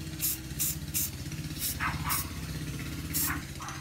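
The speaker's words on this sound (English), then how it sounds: "Using a recycled ukulele stencil, we're going to paint the hell out of this handle." A spray can hisses in about seven short bursts, painting a handle red through a recycled ukulele stencil, over a steady low hum in the background.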